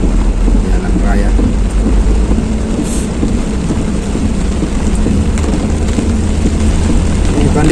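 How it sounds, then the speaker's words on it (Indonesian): Loud, continuous roaring wash of heavy rain and gusting strong wind on a street in Makassar, a dense rumbling noise with no pauses and occasional faint voices beneath. "Ini kondisi hujan, angin kencang begini memang rawan pohon-pohon"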